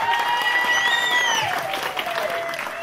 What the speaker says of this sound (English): Give an applause to them.